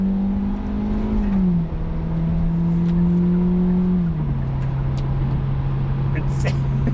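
A 2021 Hyundai Elantra with a 147-horsepower engine and manual transmission pulls steadily under acceleration on a test drive, its drone stepping down in pitch with each gear shift, loud and continuous from inside the cabin.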